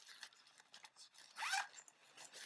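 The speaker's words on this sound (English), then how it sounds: "There's another zipper up here for any cables." A zipper runs on a Mosiso camera backpack, with several short rasping pulls and then one longer, louder zip, close and clear with no talking.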